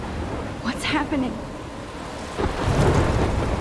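Thunder rumbles over steady rain in the game Life is Strange, with two rolling bursts separated by a lull, loud and close against a constant hiss of rainfall.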